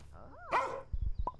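A dog in the video game Thief Simulator 2 gives one quick yelping bark, then soft thuds follow at close range.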